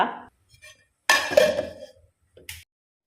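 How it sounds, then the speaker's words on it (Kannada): A lid set onto a cooking pot of simmering saaru: a sharp metallic clank followed by a lighter clink a moment later, close and clear against near silence. "ಈಗ ಮುಚ್ಚಳ ಮುಚ್ಚಿಡುವ"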